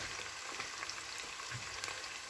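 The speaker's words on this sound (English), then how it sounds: "I'm going to let those saute along with a piece of scotch bonnet" Steady close sizzle of aromatics sautéing with a piece of scotch bonnet pepper in hot palm oil for a chicken stew, a continuous crackling fry with small pops and no talk.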